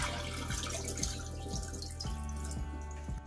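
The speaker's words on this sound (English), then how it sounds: "once I hold the latch down, this flap is going to stay open and it's going to keep draining the water" Water drains steadily from a toilet tank with the flapper held open, a close, continuous gurgling trickle with soft drips and small plops recurring every half second or so.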